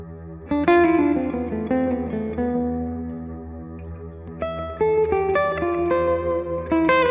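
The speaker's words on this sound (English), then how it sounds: "Slot 1 has a sustainer complete with an always-on reverb that's been tweaked to work like a subtle slapback delay." Electric guitar through a TC Electronic Infinite Sample Sustainer pedal with an always-on reverb set as a subtle slapback, held layered notes ringing on in a smooth chordal swell.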